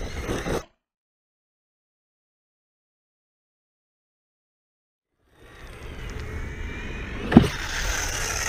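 Arrma Mojave 1/7-scale 6S RC desert truck driving: a short burst of motor and wheel noise, a long silent gap, then a rough, rising whir from the truck with one sharp knock near the end.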